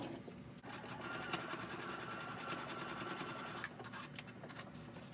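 A sewing machine stitches along the edge of a piece of fabric, running as a steady, close whir for about five seconds and slowing slightly near the end.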